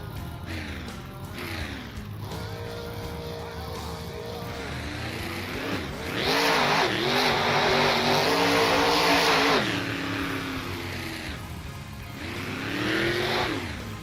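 Drag race cars launch at a Webberville, Michigan strip, engines roaring loudly as they accelerate hard, rising in pitch through gear changes before fading, then swelling again near the end, with crowd and announcer sounds underneath.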